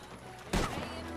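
A single gunshot in Red Dead Redemption 2 Online, a sharp, fairly loud crack with a short ringing tail over steady game background noise.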